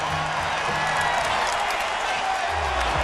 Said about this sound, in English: Hendricks leads the cheering section.